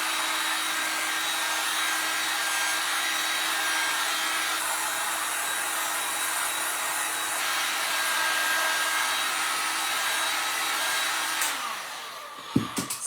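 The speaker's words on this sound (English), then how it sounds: "I'm just heating it up with a heat gun." A heat gun blows steadily with a broad, even airy roar while warming a flexible IOD Joie des Roses transfer sheet for DIY wall art, running nearly nonstop and loud before cutting off with a few handling clicks at the end.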